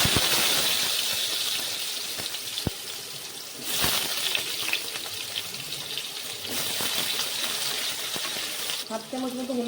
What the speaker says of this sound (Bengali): এবার আলুগুলো হালকা করে ভেজে নেব